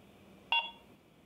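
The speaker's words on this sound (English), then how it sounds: "that beep is recorded on the camera" A single short electronic beep from a Marbl Orbit Pro kit, clear and close, sounding once against a quiet hum.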